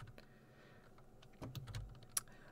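Irregular clicks and taps of computer keyboard keys while playing Hexen 2, scattered soft keystrokes with a louder cluster and one sharp click near the end, close and faint, no talking.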